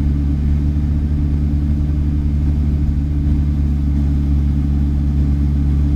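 A Ferrari 488 GTB sports car engine on a racetrack at Memphis International Raceway gives a loud, steady, low rumbling drone that holds constant throughout, with no voices.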